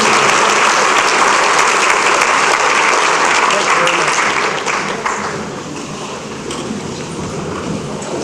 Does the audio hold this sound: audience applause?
yes